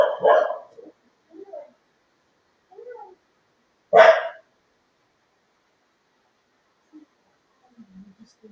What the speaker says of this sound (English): She just wants to bark